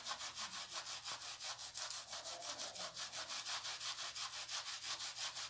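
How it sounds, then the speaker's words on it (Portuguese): Sandpaper rubs back and forth over the edge of a bicycle inner tube before patching: a fast, even, rhythmic scrubbing, close and steady, about five strokes a second, with no talk. "Aqui você pode lixar bem a bordinha aqui, ó."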